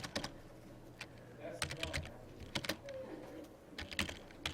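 Bursts of keystrokes on a computer keyboard while working in Mathcad, clustered clicks and taps close by, with someone talking quietly between them.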